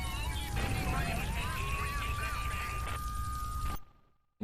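Helicopter in the video game GTA III, a steady whirring rotor drone with a rising engine tone, fairly close and continuous, with other game noise layered under it before cutting off abruptly near the end.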